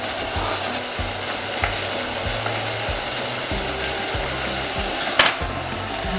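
Garlic and strawberries sizzle in a hot pan for a strawberry-thyme tomato sauce, a close, even frying hiss with a few crackles and soft low scraping in the background.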